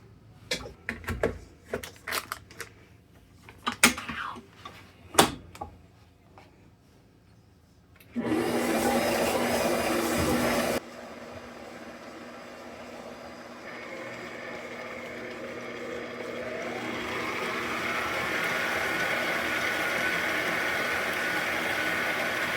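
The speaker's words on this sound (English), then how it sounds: "I'm going to take this bowl over here to my tabletop mixer, stand-up mixer, whatever you want to call it, and get these ingredients creamed together" A stand mixer creams wet cake ingredients in a bowl, a steady motor whir with scraping hiss that runs continuously after some clattering handling sounds, close and moderately loud.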